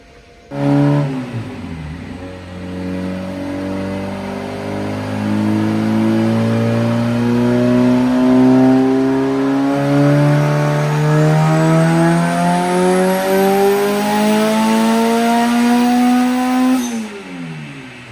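A boosted Honda Civic on a chassis dyno, its engine revving in one long sustained pull that climbs steadily in pitch for about fifteen seconds before dropping off sharply, loud and close with a whine rising over the roar.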